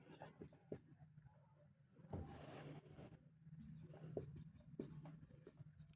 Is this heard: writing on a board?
yes